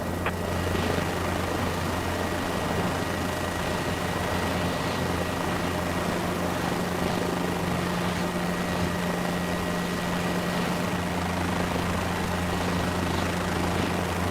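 A helicopter in Microsoft Flight Simulator idles and taxis near a runway, its engine and rotor giving a loud, steady drone with a constant hum that runs unbroken throughout, with no voices.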